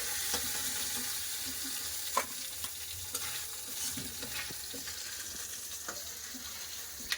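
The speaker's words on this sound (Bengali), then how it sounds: "মাছের মাথাগুলো ভালো করে লাল করে ভেজে নেবো।" Fish heads frying in oil in a wok give a soft, continuous sizzle with scattered light clicks and scrapes of stirring, fairly quiet and without voices.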